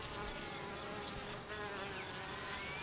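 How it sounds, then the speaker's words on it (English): Honeybees (Apis mellifera) buzz continuously and close by, a steady dense drone of many wings with no pauses. "Honeybees are social insects in the family Apidae, order Hymenoptera."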